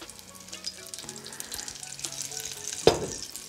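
A small knob of butter with a splash of olive oil sizzling in a pan, light crackling and spitting close by with a sharp pop near the end.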